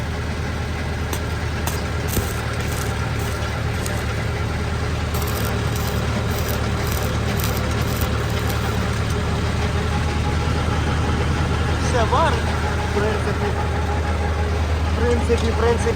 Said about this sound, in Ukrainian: На даний момент крутиться насос для води і включаю сварочний апарат 80 А і пробуємо